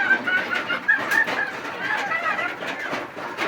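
Backyard flock of grown Rhode Island chickens clucking and murmuring in a steady, close, busy chorus, with a few sharper calls standing out over the continuous chatter.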